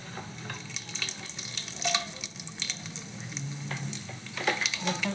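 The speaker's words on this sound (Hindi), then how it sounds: "देखो एबे रखि गरम पानी को पकईदेली।" Hot water is poured into a pot of khichdi cooking on the stove with cumin, bay leaf and garam masala, giving a steady loud sizzle and bubbling hiss with splashy watery bursts throughout.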